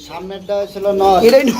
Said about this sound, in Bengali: এটা পুটার কবুতর